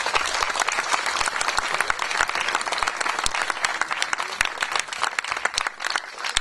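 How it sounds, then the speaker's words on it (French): Audience applauding at a concert, a dense, steady burst of many hands clapping close by, filling the whole moment without talk. "On peut l'applaudir."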